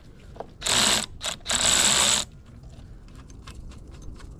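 Power drill or ratchet tool whirring in two loud close bursts while undoing the engine steady bar bolt on a Classic Mini Cooper, the second burst longer, followed by faint clicks and quiet workshop background.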